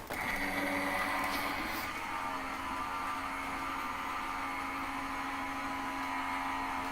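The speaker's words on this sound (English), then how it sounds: "Let's run that through my die cutting machine." A die cutting machine feeds a card through its rollers with a continuous, even mechanical hum and drone. The motor sounds close and stays steady from start to finish, with nobody speaking.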